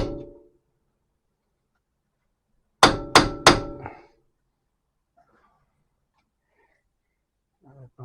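Three quick metallic hammer strikes ring out close and loud in steady succession while something is tightened by hammer, followed by silence and a faint voice at the end.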